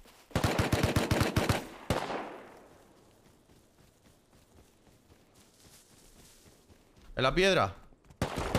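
Automatic gunfire in the Rust video game: a rapid close burst of shots at the start, a quiet stretch, then another sharp burst near the end, with brief speech in between.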